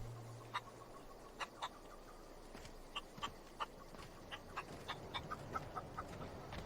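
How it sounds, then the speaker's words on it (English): A chicken in The Outer Worlds clucks in a run of short, sharp, evenly spaced pecking clucks, about a dozen over several seconds, faint against a quiet ambient background. "Hey, chicken."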